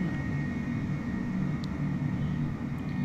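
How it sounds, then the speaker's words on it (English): Airbus airliner engines in Microsoft Flight Simulator 2020, a steady low droning rumble with a faint high whine held throughout, alone and without talk. "Here's a generic Airbus of no obvious description."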